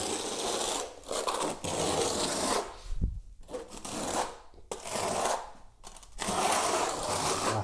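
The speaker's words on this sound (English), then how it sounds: "rapid set adhesive here with a 3mm notch trowel" Notched 3mm trowel spreading rapid set tile adhesive for tile matting, a close, continuous scraping and rasping in repeated strokes with brief pauses between passes.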